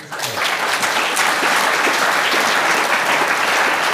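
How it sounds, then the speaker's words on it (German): Loud, sustained applause from an audience, dense clapping that swells quickly and continues evenly throughout. "Applaus."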